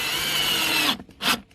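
Power drill driving a screw into recycled composite decking, a close high whine that holds, stops abruptly, then a short second burst.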